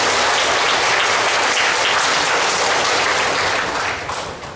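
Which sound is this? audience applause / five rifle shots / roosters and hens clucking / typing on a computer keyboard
audience applause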